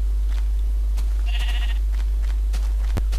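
A single short bleat from a Minecraft sheep, thin and clear near the middle, alone over a low steady hum with a few faint clicks and a sharp tap near the end.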